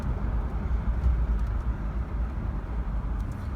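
Steady low road rumble from inside a Toyota 4Runner as it drives smoothly, a constant engine and tire drone with no distinct events and no talking.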